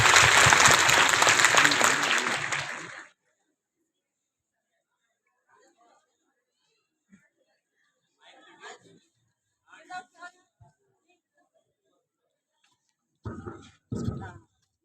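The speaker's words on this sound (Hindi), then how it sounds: "जोरदार तालियों के साथ उनका स्वागत करें।" Loud, dense applause from the audience at a girls' inter college silver jubilee school event greets a poet for about three seconds, then stops abruptly, leaving near silence broken by scattered bits of speech.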